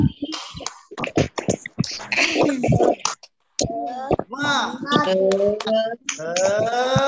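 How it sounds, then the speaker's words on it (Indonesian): Children in an elementary classroom perform a rhythmic spirit clap, sharp hand claps in quick patterned bursts mixed with their chanting voices, followed by a teacher speaking. "Coba, tepuk semangat."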